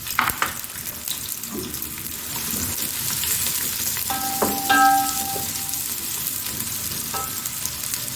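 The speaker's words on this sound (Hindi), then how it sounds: "प्याज को करना है गोल्डन।" Onions fry to golden in hot oil for chicken biryani, giving a steady, close sizzle and crackle. Occasional metallic clinks of stirring sound over it.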